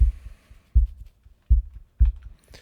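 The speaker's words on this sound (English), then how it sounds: "I'm going to start with just a simple kick drum" A simple kick drum in electronic music production thumps four times at an even, steady pulse, each hit deep, punchy and close, playing alone with no other instruments.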